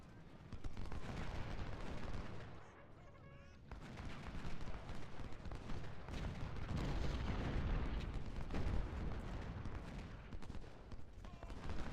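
Gunfire and artillery in Ultimate General: Civil War, a dense rumbling stream of musketry crackle and booming cannon fire, continuous with a brief lull, at moderate loudness.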